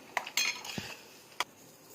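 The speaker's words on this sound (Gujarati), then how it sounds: "એમાં મીઠું એડ કરીશું, થોડું ધાણા જીરું અને એને મિક્સ કરીશું" Potato filling for aloo paratha being mixed with salt and coriander-cumin powder, a few sharp clinks of a spoon against a metal bowl with soft scraping between them, close and fairly quiet, with no talking.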